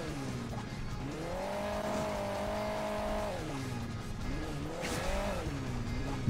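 A vehicle engine in the mobile game Hill Climb Racing 2 hums and revs steadily, pitch climbing and dipping as the car accelerates over hills, loud and continuous throughout.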